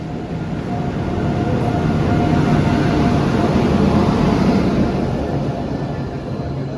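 A train rumbles steadily close by, a loud continuous roar of wheels and engine that swells slightly in the middle, with no voices.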